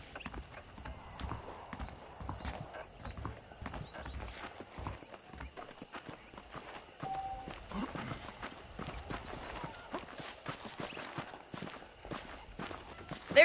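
Steady clip-clop of horse hooves walking at an even pace in Red Dead Redemption, with a faint whinny and soft ambient noise behind; no one speaks.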